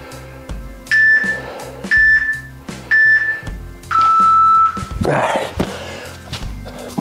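A workout interval timer gives three short electronic beeps at a steady spacing, then one longer, lower beep, close and loud over background workout sounds.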